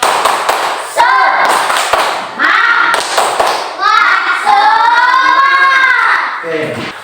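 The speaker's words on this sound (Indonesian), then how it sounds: "Tepuk semangat." Classroom of children doing a rhythmic spirit clap, bursts of hand claps and thumps mixed with loud chanting voices in a patterned beat.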